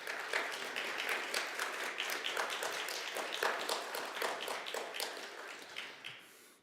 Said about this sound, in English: Let's give them both a little applause.